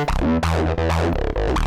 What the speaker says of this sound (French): J'ai activé l'overdrive.